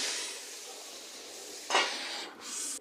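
Cubed potatoes drop into a pan of frying meat for a home-cooked Friday meal, with a steady sizzle, a sharper burst of hiss as they land, and some stirring scrapes afterward.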